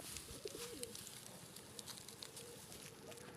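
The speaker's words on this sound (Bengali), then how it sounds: "এখানে প্রায় 80টার মতো পায়রা আছে বিভিন্ন জাতের।" Pigeons of various breeds coo softly at a pigeon farm housing around eighty birds, faint repeated low calls over a steady hiss of background noise.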